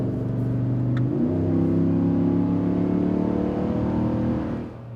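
A 2022 Ram 1500 GT pickup's engine climbs sharply in revs as it blips through a paddle downshift, then holds a steady, loud, close-up drone before easing off near the end.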